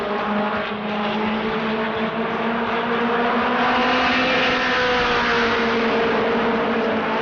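Modified race cars lap New Smyrna Speedway in a Mod Mini 50 race, a steady loud engine drone with rising and falling pitch sweeps as cars pass, continuous throughout with no voices.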